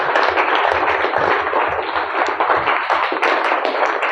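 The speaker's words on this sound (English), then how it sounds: "Clap for you." A classroom of students claps together, a dense continuous patter of many hands held at a steady level throughout.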